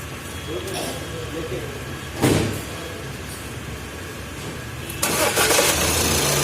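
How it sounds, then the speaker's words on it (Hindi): An Audi A6 2.0 engine cranks and catches after a water pump replacement and timing work, then settles into a steady idle, with a second burst of revving later; no one speaks. "तो करते हैं फ्रेंड्स स्टार्ट, और चेक करेंगे हम कार में कोई साउंड वगैरह"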